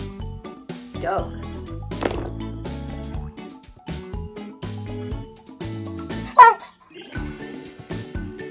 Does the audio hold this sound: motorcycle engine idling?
no